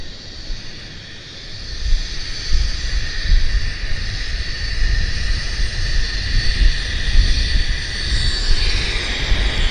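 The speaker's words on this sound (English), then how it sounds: "There we've got Lufthansa on approach too." A Lufthansa airliner on approach to Vancouver Airport roars steadily overhead, a broad, sustained jet rumble swelling slightly and holding, fairly loud with no talk.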